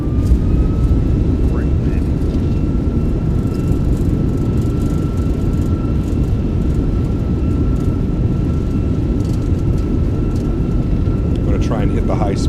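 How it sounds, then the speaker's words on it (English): Simulated thrust reversers on a Fenix A320 airliner roar steadily while it decelerates after landing in the MSFS2024 video game, a loud broadband rush with a faint whine on top. "Reversers are out. Decelerating."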